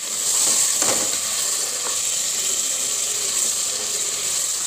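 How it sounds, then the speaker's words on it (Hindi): Chicken pieces fry in hot oil in a pan, giving a steady, loud, even sizzling hiss throughout with no talk. "फिर हम इसमें चिकन ऐड करेंगे और इसको फ्राई करेंगे।"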